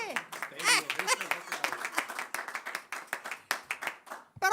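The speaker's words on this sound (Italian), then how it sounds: "Applauso" A small crowd at the 100th-anniversary carnival of Malo claps in a brisk, uneven patter of individual hand claps close by, with a voice briefly heard near the start and again at the end.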